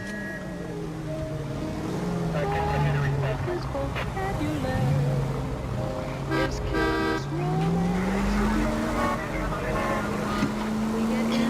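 Cars and city traffic from the video game L.A. Noire, with engine drone rising and falling, shifting tones and a horn-like toot, running continuously at a steady loudness.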